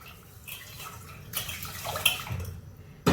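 Water is poured in short splashy bursts while a Mangalorean methi ganji is prepared in a home kitchen, faint and close by, with a louder splash near the end.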